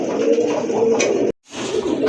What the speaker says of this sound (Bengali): মাশাআল্লাহ দেখেন এক জোড়া রেসার কবুতর